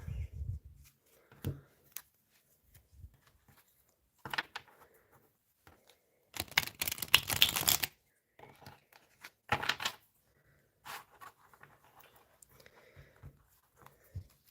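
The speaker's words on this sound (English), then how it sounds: "let's do one more shuffle" Tarot cards are shuffled by hand in several brief papery bursts, with a longer, louder riffle in the middle, separated by quiet pauses and light handling noises.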